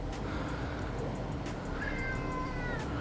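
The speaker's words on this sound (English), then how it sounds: "Are you a hungry cat?" A hungry cat meows in a garage workshop, a couple of short drawn-out calls over steady background noise, fairly close and alone without talk.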